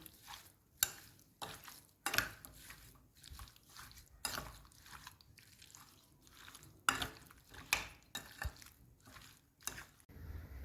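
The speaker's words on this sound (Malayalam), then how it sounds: "നല്ലതുപോലെ മിക്സ് ചെയ്ത് കൊടുക്കുക." A spoon stirs a mixture of chopped lemons and salt for lemon pickle, giving repeated scraping and clinking strokes against the container in an irregular rhythm, close and fairly quiet, with no talk.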